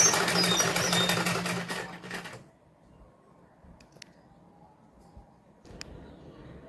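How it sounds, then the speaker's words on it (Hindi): Electric sewing machine stitching gathered pleats on a salwar runs loudly in a fast steady whir for about two seconds, then stops, leaving only faint room noise and a couple of small clicks. "तो देखिए हमें इस तरह से सिलाई चलानी है।"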